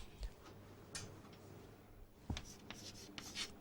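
Chalk or marker writing on a board during a microprocessors lecture, steady rubbing scratches with a few sharper taps as letters are formed, close and alone over faint room hum.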